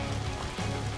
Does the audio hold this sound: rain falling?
yes